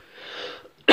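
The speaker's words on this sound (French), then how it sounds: "je suis vraiment désolé pour ma toux" One person coughs during a live Clash Royale mobile game session, a breathy inhale rising and fading before a sharp, loud burst at the end, close to the microphone with no talk.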